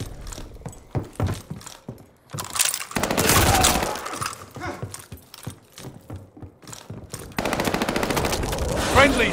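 Welgun submachine gun fire in Call of Duty Vanguard, rapid bursts crackling repeatedly at close range, with a few sharp shattering crashes and a heavy sustained burst of gunfire near the end.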